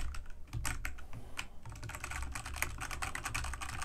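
Rapid typing on a Redragon K617 Fizz RGB gaming keyboard fitted with red linear switches, producing a steady stream of crisp, close plastic key clicks for several seconds with no voices over it.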